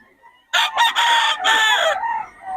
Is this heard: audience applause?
no